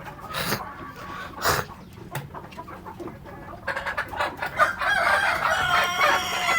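Roosters crow loudly several times, with hens clucking and squawking around them in a busy, close-up coop.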